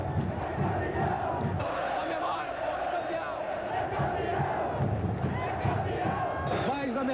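Botafogo supporters packing half of the Maracanã roar, shout and cheer without pause after a Carioca championship win, a dense, loud, unbroken wall of crowd noise with voices surging throughout.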